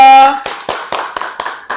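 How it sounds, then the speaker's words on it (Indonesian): A classroom of students gives a short round of applause for a student group, a ragged handful of distinct claps following a brief spoken word at the start. "Tepuk tangan untuk kelompok 2."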